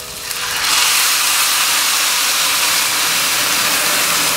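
White wine poured into a hot pan of toasted rice for risotto, erupting into a loud, broad hiss of sizzling steam that holds steady after the first splash.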